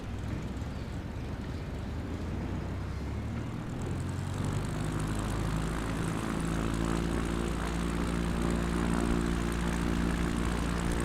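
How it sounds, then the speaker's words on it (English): A propeller airplane taxis along a backcountry runway in a flight simulator in Idaho, its engine droning steadily and close throughout, rising in tone partway through. "Just gonna slowly taxi to the other end."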